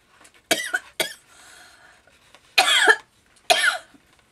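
Several harsh coughs at close range, two quick ones followed by two longer, louder bursts, with quiet pauses between.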